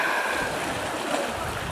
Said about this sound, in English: the waves aren't really too bad here for basically a hurricane kind of going away out there